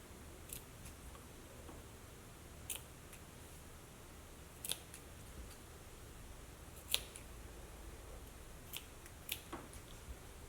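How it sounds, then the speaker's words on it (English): Scissors snip notches into the curved seam allowance of a sewn fabric Christmas stocking, a series of sharp, close, quiet clicks spaced irregularly over a faint steady background hum. "So I'm just going to trim some notches in the curves here."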